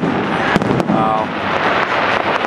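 Disney park fireworks burst overhead in loud, sharp booms over steady crowd noise. People talk throughout.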